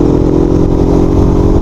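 A Shineray Rio 125 fuel-injected motorcycle engine revs loudly and steadily up close, a throaty mid-pitched roar that holds for under two seconds.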